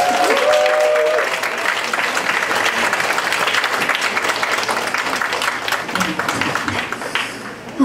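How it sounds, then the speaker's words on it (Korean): Applause from the audience at an outdoor Korean traditional music concert held at a historic Confucian academy in Gyeongju, a sustained wash of clapping that stays fairly loud and steady before thinning out near the end, with a brief voice at the start. "제가 물 마실 때 안 부끄럽게 박수 한번 쳐주세요."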